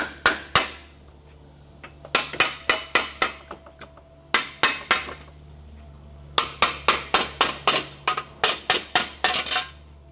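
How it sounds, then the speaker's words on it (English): Small hammer tapping metal on a car's radiator core support, a G35/G37 sedan, in quick bright bursts of four to six strikes separated by short pauses, close and loud, without voices. "just grab a little hammer. We're gonna tap this forward."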